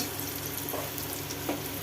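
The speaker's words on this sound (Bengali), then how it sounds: "এটা চিচিঙ্গে ভাজা হচ্ছে, আলু ভাজা, চিচিঙ্গে ভাজা।" Snake gourd fries in a pan with a short, steady sizzle and faint crackles at moderate volume.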